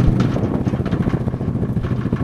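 A TGB Blade 550 quad bike engine runs steadily at a low, even idle, with a continuous close chugging rumble and light mechanical clatter throughout, with no talk.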